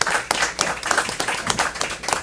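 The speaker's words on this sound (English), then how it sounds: "I would like to give a round of applause to our first three speakers" Audience clapping at an IUCN World Environmental Law Congress session, a dense patter of many hands with uneven bursts, fairly close and steady throughout, with no voices.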